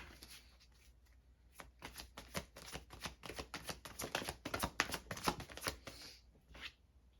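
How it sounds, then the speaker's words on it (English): Tarot cards riffled and flicked in a dense, fast run of crisp snaps that starts sparse, builds to a busy clatter and then trails off, close and clear with no voices. "let's pull some more of these cards"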